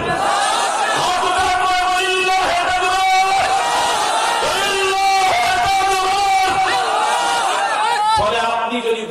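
Crowd shouting a takbir chant in response, a loud, sustained mass of voices with rhythmic bursts that fills the whole span, dense and close.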